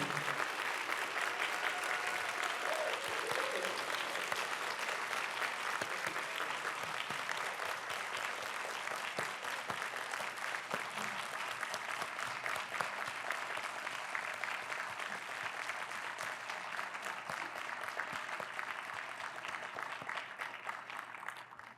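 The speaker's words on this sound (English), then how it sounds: "please give a round of applause for the 2023 changemakers who are contributing to the greatness of our city" An audience at the Leadership Memphis awards luncheon gives sustained applause for the 2023 changemakers, a steady dense clapping that fades slightly toward the end.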